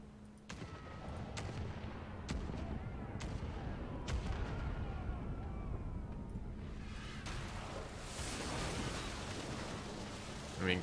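Ship cannons firing in the Pillars of Eternity 2: Deadfire naval combat, a steady run of heavy booming shots with sharp cracks at intervals over a dense rumbling battle din.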